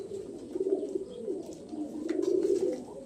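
A Lotan pigeon coos softly nearby, two low rolling coos in a quiet setting.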